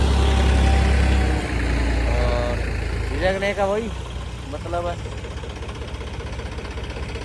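A tractor-mounted motor grader's diesel engine runs at a steady mid-low idle on a work site, with rising and falling tonal whines as it revs. Someone talks over the engine throughout.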